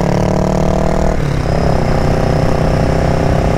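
A Royal Enfield Interceptor 650 motorcycle engine drones loudly and steadily as it pulls away from a traffic light, its pitch dropping briefly at a gear change and then rising again under constant road and wind noise.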